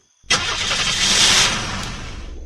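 A vehicle engine in the zombie survival game Unturned cranks and catches after a brief silence, then settles into a loud, steady mid-pitched running hum, close and alone.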